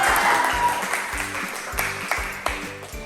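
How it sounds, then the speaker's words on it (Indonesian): A classroom of students applauds a classmate with a loud wash of clapping, while a low rhythmic tone pulses beneath it throughout. "Tepuk tangan dulu untuk Anyovel."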